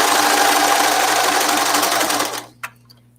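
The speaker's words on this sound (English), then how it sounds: "And I just start sewing." A sewing machine runs fast and loud while stitching a cuff, a dense steady hum that cuts off abruptly near the end, followed by a single light click.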